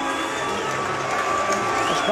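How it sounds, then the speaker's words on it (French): A crowd roars and cheers at a semi-final match between Cool FM and Pétroliers, a continuous loud wash of voices with whistles and shouts mixed in. "La foule"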